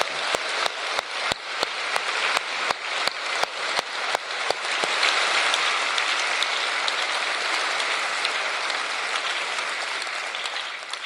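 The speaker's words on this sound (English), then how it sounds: "If you can join me in a hand of applause, because they are fantastic." An audience at a Leave Means Leave political rally claps steadily, beginning with a few rhythmic sharp claps that blend into sustained, fairly loud applause.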